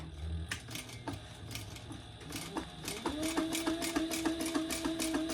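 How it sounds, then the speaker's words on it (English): A sewing machine stitching around a bag at a stitch length of 4, a steady fast mechanical chatter that speeds up into a constant whirring hum partway through, close by with no talking. "now we're going to stitch all the way around that"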